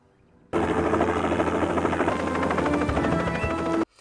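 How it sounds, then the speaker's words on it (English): A helicopter in a scene from the 1999 film Lake Placid, a loud, continuous rotor and engine roar that cuts in abruptly and holds steady for about three seconds before stopping sharply. "that helicopter"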